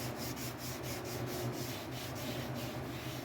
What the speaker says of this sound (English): So we're gonna sand this thing flat and try and get rid of all the orange peel